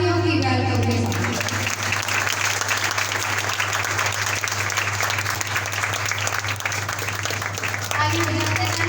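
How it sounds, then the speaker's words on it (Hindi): Loud, sustained applause welcoming a preacher at a Christian gathering, dense clapping carrying on for several seconds over a constant electrical hum, with a speaking voice briefly at the start and again at the end. "आप सबकी तालियों की वेलकम के साथ"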